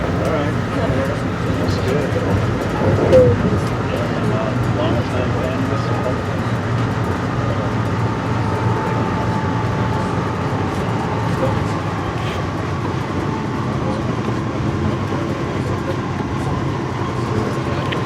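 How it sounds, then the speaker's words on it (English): Amtrak passenger train carrying riders on the AEM 7 farewell excursion from Washington D.C., a steady low rumble and rolling hum throughout, with people talking over the ride. "Train's nice"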